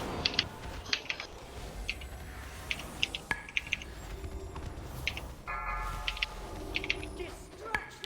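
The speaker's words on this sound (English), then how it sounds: "your keyboards are really loud this pull" Loud computer keyboard typing during a Mythic raid progression session in World of Warcraft, rapid irregular keystrokes clattering throughout under game sounds and background voice chat.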